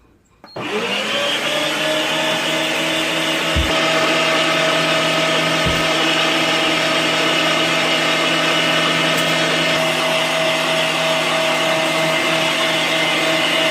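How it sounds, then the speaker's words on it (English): Avan-Pacific UMG-3010 heavy-duty metal-gear electric meat grinder giving a second grind to seasoned chicken and pork, starting up and then running in a loud, steady whine with a couple of brief knocks. "we're going to do a second grind, just a quick grind to make sure all of our seasoning is mixed in well with our meat"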